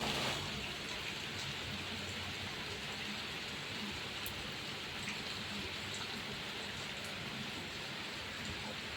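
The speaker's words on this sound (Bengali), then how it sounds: "এত বৃষ্টি হচ্ছে" Steady rain falls through a wet day, a constant soft hiss of drops with a faint crack partway through and no talking.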